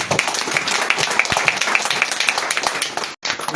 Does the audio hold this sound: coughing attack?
no